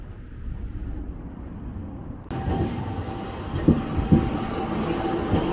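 A tram runs through Nagasaki with a steady low rumble that jumps louder partway through, then a couple of sharp metallic clacks and squeals from the rails, heard from on board.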